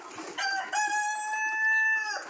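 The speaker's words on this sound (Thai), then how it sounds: "นี่ไก่งวงนะครับ" A loud, drawn-out turkey call with steady harmonic tones, sustained for about two seconds close by on a poultry farm, with no talking.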